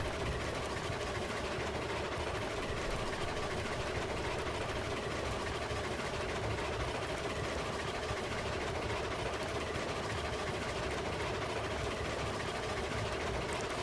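A Climax steam locomotive runs in the railroad game Railroads Online, giving a steady, continuous mechanical rumble and chuffing hiss that stays even and unbroken throughout, with no talking.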